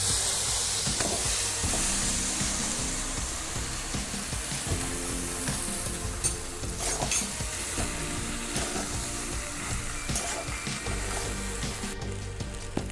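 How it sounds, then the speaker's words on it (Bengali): Boiled pasta tipped into a hot pan, a steady hissing sizzle with steamy bursts and spoon scraping as it is stirred, close and continuous, without speech. "আমি পাস্তাটা সিদ্ধ করাটা ঢেলে দিচ্ছি"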